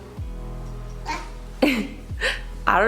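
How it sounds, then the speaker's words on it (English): Several short, forced coughs or coughlike bursts from a nearby voice, spaced irregularly over a constant low hum. "We know that's a fake cough."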